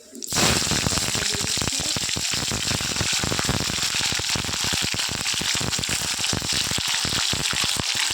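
Bay leaf, dried chilli, whole cardamom and cumin sizzle in hot oil as a tempering, a loud, steady crackling fry with dense popping that starts abruptly and holds throughout.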